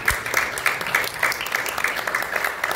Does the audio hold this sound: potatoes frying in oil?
no